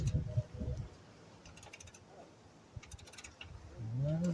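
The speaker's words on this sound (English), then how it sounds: "Make sure I'm wrenching on appropriately." A wrench ratcheting a bolt loose on the chassis of a 2006 Toyota Corolla during an overhaul, giving brief bursts of quick clicking that are fairly faint against a quiet workshop background.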